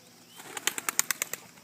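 Rapid wing flaps burst out after a quiet moment, about eight quick beats in a row as a bird is released from a launcher during hunting dog training, close by.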